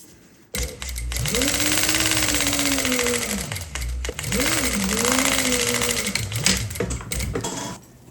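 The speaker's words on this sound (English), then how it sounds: "I'm using my cover stitch machine here to create the cord channel for the slip pocket" A cover stitch sewing machine runs steady stitching across a fabric bag panel, forming a cord channel for a slip pocket. Its whirring motor rises and falls in pitch through two long runs with a short pause between, close and moderately loud.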